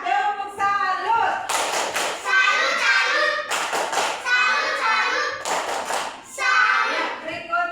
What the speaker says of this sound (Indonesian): Ya, tepuk salut.